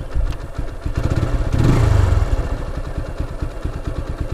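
A TVS Apache RTR 2V with ABS idles close by, a fast, even chug of engine pulses that swells into a brief louder rev midway before settling back to a steady idle.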